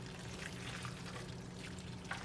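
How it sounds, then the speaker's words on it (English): Sauce poured from a tray over beef short ribs with whole garlic heads, a soft, faint liquid trickle and splash lasting a couple of seconds in a quiet kitchen. "Now take that lovely sauce and pour it over the beef ribs."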